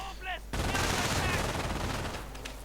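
An MG42 machine gun fires in a video game, opening with a sudden dense burst of rapid rounds that holds loud for about two seconds and then trails off. A short snatch of voice comes just before the firing.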